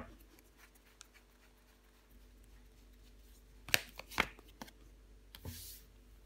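Tarot cards handled and turned over on a table, a couple of quick, crisp card flicks and slides standing out from a quiet room, close and fairly soft, no talking.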